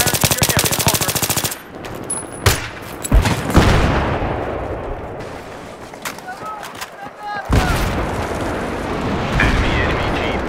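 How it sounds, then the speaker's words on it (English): Battlefield 3 Conquest match on Gulf of Oman: loud rapid bursts of gunfire with sharp individual shots and booming reports, dense and near, with game voices mixed in. "Hostile sniper fire in your area."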